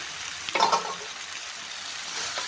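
Macaroni added to a pan of cooked-down spices fries with a soft, steady sizzle, broken by a brief louder clatter and scrape near the start as it goes in.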